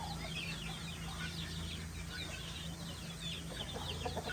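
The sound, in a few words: chickens, pullets and roosters clucking in a pen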